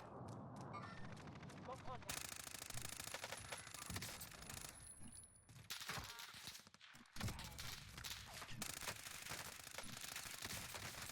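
LC-10 gunfire in the Warzone video game comes as loud, rapid automatic bursts that run almost without a break, with short gaps between volleys and a voice talking over the shooting.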